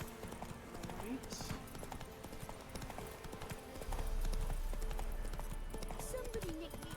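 Roach, the horse in the Witcher 3 video game, gallops with a quick, steady clip-clop of hooves, mixed with game ambience and faint voices in the background.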